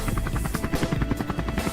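An animated helicopter gives off a close, steady rotor chop. Rapid, even thumps pulse throughout the short stretch, and there is no talking.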